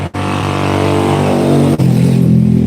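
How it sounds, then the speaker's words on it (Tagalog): Motorcycles in a Filipino neighborhood rev loudly and close by, a continuous rough engine roar that swells and drops briefly before climbing again. "pagkaingay ng mga motor dito sa amin."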